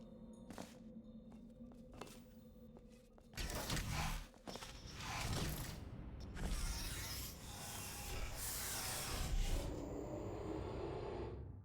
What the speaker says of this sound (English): The exit door is now open.